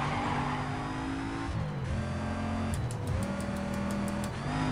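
A Mercedes race car in a video game revs hard through repeated gear shifts, its loud engine tone climbing and dropping steadily with no talk over it.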